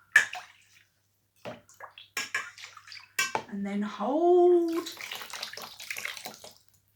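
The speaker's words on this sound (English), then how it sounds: "And then the water comes all the way through the holes." Water is scooped with a small jug and poured into a colander, splashing and draining through its holes in bursts, with a longer gushing pour in the middle and a voice speaking between the splashes.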